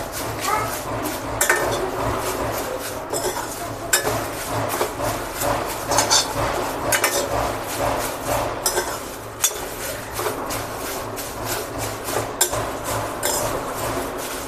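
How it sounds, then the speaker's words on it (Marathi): Curry leaves roasting crisp in a dry pan, stirred steadily so they rustle and scrape against the metal with small clinks, a continuous close-up texture that runs throughout with no talking. "किती छान आवाज येत आहे बघा कढीपत्त्याच्या पालांचा, कुरकुरीत भाजले गेलेले."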